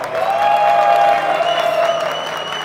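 Sustained audience applause at a live drag show competition in a Spanish-language nightclub setting, steady and fairly loud for the whole stretch, with a tonal musical or vocal line riding over the clapping.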